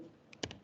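A single Enter key press on a computer keyboard, heard as a couple of quick, faint clicks during CAD drawing work, with no talking.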